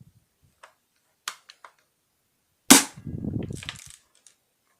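A Franchi SAS 12 airsoft shotgun is handled with a few light clicks of reloading, then fires one loud, sharp crack followed by a short mechanical rattle, all close by.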